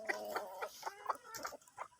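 Several free-range hens cluck outdoors in short repeated bursts, close by and fairly soft, with a steady rhythm of brief calls and no talking.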